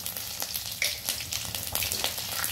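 Garlic and cumin seeds fry in hot oil in a wok, a steady, dense crackling sizzle that stays close and loud throughout, with no voices.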